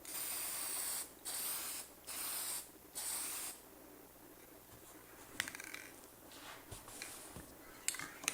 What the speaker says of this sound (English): a little rattle can lacquer on this